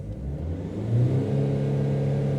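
A Mercedes Sprinter Euro 4 van engine with a repaired MAF sensor fault revs up briefly and then holds a steady, smooth drone at close range.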